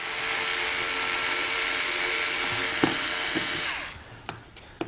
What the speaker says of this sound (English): Let's go ahead and let's start removing the screws.